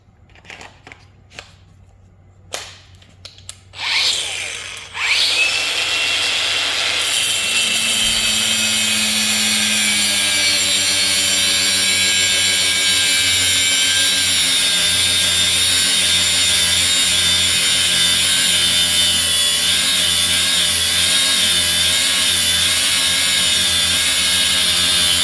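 A Hercules 20V brushless angle grinder with a paddle switch, running on its battery, cuts with a cutoff wheel: a few clicks and brief handling noises, then a steady, loud, continuous high whine and grinding rasp that holds for about twenty seconds.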